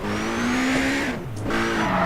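A Lotus Exige Cup 260 engine drones steadily with a rising and falling pitch as it revs and shifts, loud and close throughout, in Need for Speed World.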